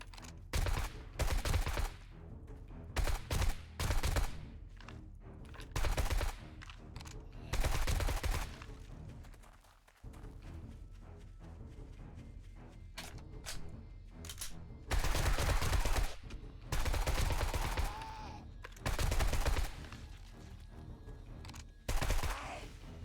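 Bursts of gunfire in the survival game 7 Days to Die come in several separate volleys of rapid shots, loud and close, with quieter stretches of ambient game noise between them.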